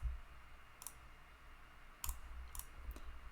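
A computer mouse clicks a few times in a quiet room while dropdown options are chosen in desktop charting software, with sharp, faint, isolated clicks spaced unevenly over a low hum.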